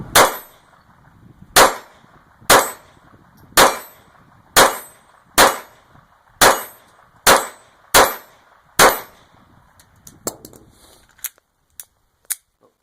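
Ruger SR22 .22 pistol fired at steel targets outdoors: ten evenly spaced sharp shots, each ringing with a metallic clang, then a few fainter, sparser clicks and pings toward the end.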